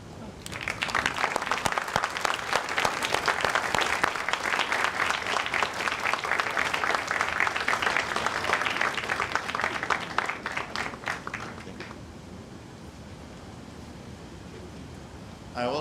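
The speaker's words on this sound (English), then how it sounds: "I would like all our graduates to stand up and applaud their parents and loved ones for their support" Standing graduates at a hospital graduation ceremony give a long, dense round of applause for their parents and loved ones, loud and steady for about eleven seconds before fading into quiet room noise.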